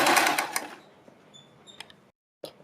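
A sewing machine stitching a neck design on fabric, a dense loud burst of rapid stitching that quickly fades into quieter, sparse mechanical clicks and handling noise, then a brief silence and one last short tap.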